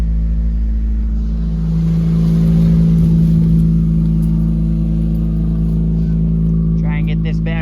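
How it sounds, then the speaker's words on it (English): A straight-piped 4-cylinder engine holds a steady fast idle, loud and close with a strong low drone and slight swelling midway; a voice speaks briefly near the end over the running engine. "Got the fast idle stick there on the straight piped 4-cylinder."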